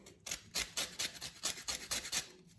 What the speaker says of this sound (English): a bit of lemon skin. We'll give you a bit of zest.